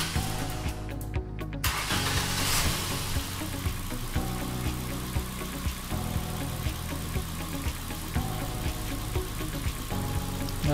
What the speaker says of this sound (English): We turn on the engine again.